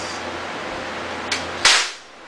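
Two sharp cracks from a toy cap gun revolver, close and loud, the second stronger, over a steady background hiss.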